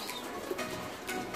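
Pigeons give soft, low cooing calls, faint and continuous over a brief stretch with no voices.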